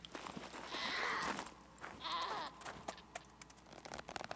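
In the survival video game SCUM, a goat lets out two bleats, the first longer and louder, the second shorter, followed by quieter footsteps and clicks of play.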